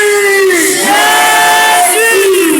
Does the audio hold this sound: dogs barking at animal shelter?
no